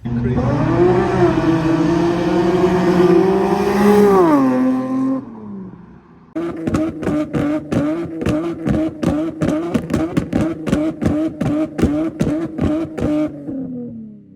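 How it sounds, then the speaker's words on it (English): An Infiniti Q50 engine revs and drops, then settles into a rapid, popping exhaust rumble through an aftermarket exhaust with a steady pulsing rhythm, loud and close. "the little exhaust setup I got going on, it sounds pretty damn good"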